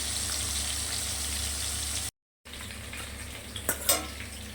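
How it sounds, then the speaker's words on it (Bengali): Fish fries in oil in a pan, a loud, steady, close sizzle that cuts out briefly, then resumes a little quieter with a few stirring clatters near the end. "আগে এটা করে নিই, মাছটা ভেজে নিই"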